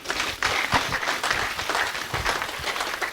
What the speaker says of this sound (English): I may ask you for a resounding round of applause.